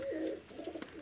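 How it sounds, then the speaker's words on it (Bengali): A high-flyer pigeon gives a brief, soft coo, a low murmuring call heard close but quiet. "এটা কবুতর আমি আপনাদের দেখাচ্ছি"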